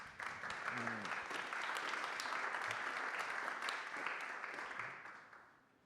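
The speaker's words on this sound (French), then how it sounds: "On peut les applaudir." Audience applause at a French conference presentation on a housing and digital twin project, steady dense clapping for about five seconds before fading out, with brief low voice sounds.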